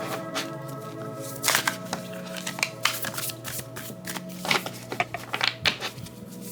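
A tarot-style deck is shuffled for a card reading, a continuous soft riffling and flicking of cards with irregular sharper snaps, close and fairly quiet with no talk.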